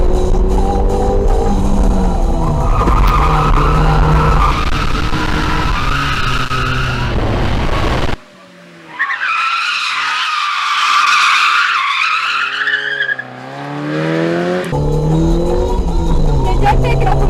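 A car on road tyres skids hard, giving a loud, close, wavering tyre squeal over engine noise. The squeal cuts out briefly partway through, and voices are heard around it.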